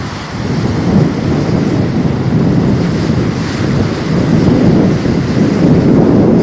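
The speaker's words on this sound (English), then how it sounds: "It's very windy." Strong wind blasts across the microphone on Engedi Beach, a loud, continuous low roar that swells and eases with faint surf beneath, with no voices.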